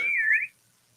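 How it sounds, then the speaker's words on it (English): A single bright whistle, a short wavering tone lasting about half a second before cutting off into silence. "you would do the whistle first and then the boing"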